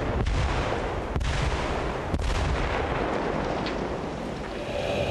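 Deep rumbling booms from a distant controlled detonation of a buried World War II bomb in Berlin roll out, with a few sharp thumps over a continuous low roar that lingers.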